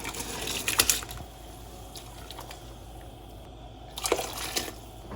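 Rice pours into boiling salted water seasoned with whole cumin and a spoonful of oil, giving two short splashing, rushing bursts over a steady simmering bubble, close by.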